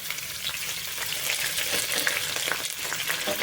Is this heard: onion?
yes